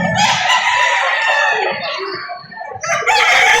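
A rooster crows loudly and close at the Padre Garcia livestock auction market, one long drawn-out call. A second crow starts near the end, over a busy background of other fowl clucking.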